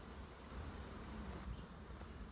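A soft, continuous buzzing of many honeybees making orientation flights near a hive in spring, a low steady drone with slight swells.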